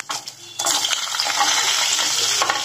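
Dried red chillies and coconut are sautéed in a pan for a pumpkin flower thuvayal. A short clatter comes first, then a loud, dense, steady sizzle takes over and holds to the end, with no speech.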